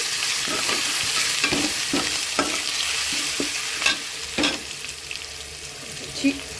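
Grated raw mango being stirred and fried in a pan, with a steady sizzle under repeated scraping strokes of the spoon at an irregular rhythm, close and moderately loud.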